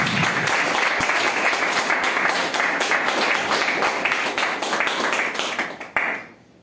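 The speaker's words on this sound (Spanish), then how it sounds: "Dale fuertes palmas al Señor." A church congregation claps loudly and energetically during a worship service, dense sustained applause that fades out abruptly near the end.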